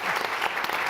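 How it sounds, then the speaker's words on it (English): Audience applause at the Hamburg Sustainability Conference, a brief burst of dense clapping from a crowd, steady and full for under a second. "please, a round of applause"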